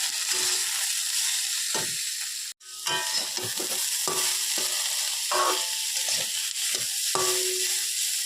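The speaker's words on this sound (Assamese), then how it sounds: "তাৰপিছতে সিজাই লোৱা ফুলকবিখিনি ইফালে বিন গাজৰৰ ভাজিত ঢালি দিলোঁ।" Boiled cauliflower tipped into a pan of frying beans and carrots, with a steady sizzle throughout and repeated scraping, clinking stirs of a spatula against the pan, close and clear.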